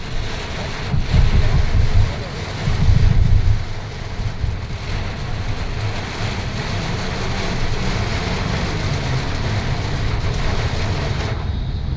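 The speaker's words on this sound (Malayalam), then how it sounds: "കാറ്റടിച്ചില്ലെന്നുണ്ടെങ്കിൽ ഈ മഴ ഇങ്ങനെ തന്നെ നിൽക്കും." Heavy rain pours down in Dubai, a loud, steady hiss of water drumming on surfaces with brief heavier rumbling surges near the start, continuous and close.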